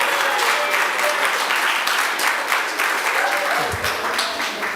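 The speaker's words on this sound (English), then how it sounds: "I'd like to give a moment for applause," Audience applause at a youth council political debate in Anguilla, District 7, a steady dense wash of many hands clapping at close range that holds for the whole stretch before a soft low thump near the end.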